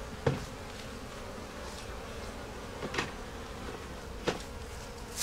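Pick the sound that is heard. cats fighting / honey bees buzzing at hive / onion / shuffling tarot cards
honey bees buzzing at hive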